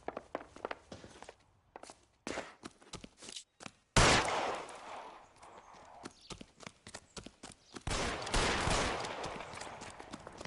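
Gunshots in L.A. Noire: sharp, separate cracks scattered irregularly amid footstep-like clatter, with two louder, sustained bursts of firing standing out.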